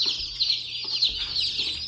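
Newly arrived chickens make rapid, high, close chirps and cheeps that run continuously with a few lower clucking notes underneath, loud and busy, with no talking.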